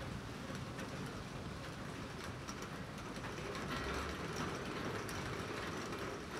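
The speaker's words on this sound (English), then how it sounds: "you understand that it's just rain" Steady rain pours down with a constant dense hiss and patter, even and unbroken throughout, fairly close and moderately loud.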